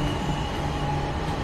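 A train running in Train Simulator 2022, a steady dense rumble of rolling wheels and rail noise with faint tonal hums, continuous and fairly loud with no pauses.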